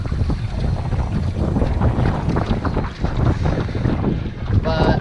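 Gusty wind buffets a small fishing boat on open water, with heavy low rumbling microphone wind noise and splashing waves, loud and continuous, plus a brief rattling near the end.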